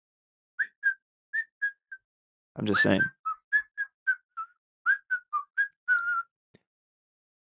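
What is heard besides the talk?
person whistling a tune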